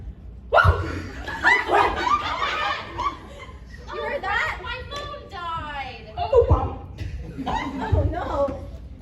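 A man imitates a dog with his voice, giving a few short, loud barking yelps mixed with chuckles and talk, close to the microphone.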